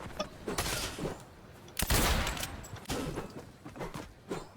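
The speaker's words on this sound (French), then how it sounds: "on essaie de l'avoir au snipe" Gunfire in Fortnite, with several loud sharp cracks including a heavy shot near the middle, mixed with other game action.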